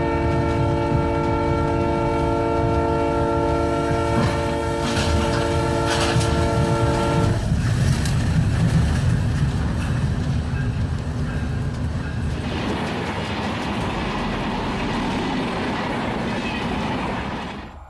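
A train passes close by, its horn blaring in a long sustained blast over heavy rolling rumble and wheel clatter, the horn cutting off partway while the loud rushing of the cars continues to the end.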